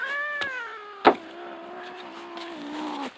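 A heavy cat being carried up to a deck gives a long drawn-out meow followed by another shorter one, close and clear, with a brief bump between them.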